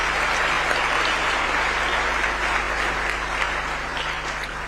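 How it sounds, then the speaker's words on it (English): Audience applauding at a health summit regional meeting, a steady even wash of clapping from a seated hall crowd, moderately loud and unbroken, with a low constant hum beneath. "Another round of applause for His Excellency and all the speakers."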